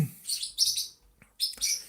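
Budgerigars chirp in a few quick, high-pitched bursts, close by, with short pauses between them.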